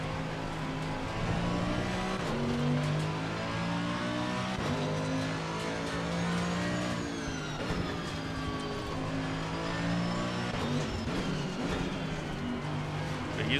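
An AMG EVO GT3 race car engine at Zandvoort in the racing game Assetto Corsa Competizione drones loudly and continuously, rising and falling in pitch through gear changes and throttle lifts, with no one speaking.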